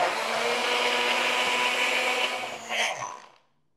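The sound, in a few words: blender grinding candlenuts and spices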